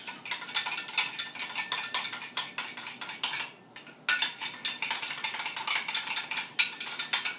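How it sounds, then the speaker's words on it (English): A spoon scrapes and clinks rhythmically against a bowl while stirring a maple Dijon sauce, quick repeated strokes close up with a short pause midway, and no voices. "And just stir it all up"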